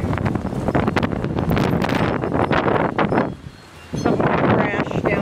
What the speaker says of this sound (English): Never in all my years seen it this windy, this sudden, this bad.